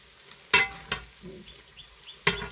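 Food frying in a pan: a few sharp, close spatula scrapes and knocks against the pan stand out over a faint, quiet sizzle, spaced irregularly across a couple of seconds.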